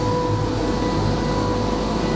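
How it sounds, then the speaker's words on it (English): A workshop extractor fan runs steadily during car bodywork repair on a rusty Subaru WRX windscreen surround, giving a loud, continuous droning hum with a low rumble and no pauses. "excuse the noise because the extractor's on"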